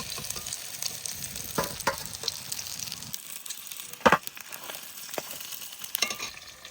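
Chital fish belly pieces frying in oil in a pan, making a steady close sizzle with crackles and a few sharp pops.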